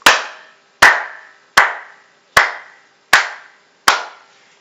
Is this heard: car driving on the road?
no